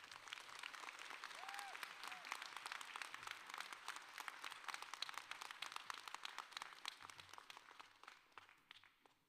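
Commencement audience at a law school ceremony applauding a speaker, a steady dense wash of many hands clapping throughout, full and sustained before easing slightly at the end, with scattered voices mixed in.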